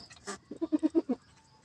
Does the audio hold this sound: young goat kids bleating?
yes